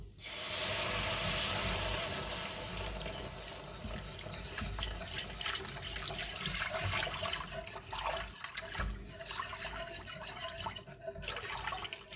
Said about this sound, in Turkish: Şimdi içerisine sütümüzü ilave ediyoruz.